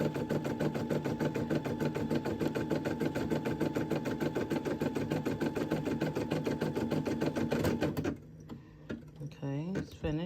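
A Brother embroidery machine stitches a monogram onto a kitchen or bath towel with a loud, rapid, steady mechanical chatter for about eight seconds. It then stops, leaving a few softer clicks and handling noises.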